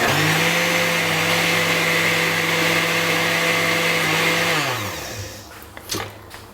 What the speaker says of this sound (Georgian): დავიწყოთ ამის დაბლენდერება